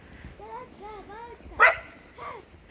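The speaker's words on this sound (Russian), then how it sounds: "Кто-то выпускает такую собачку." A small playful puppy runs loose outdoors, giving a sharp yip or bark amid nearby people's voices, with whiny, rising vocal sounds around it.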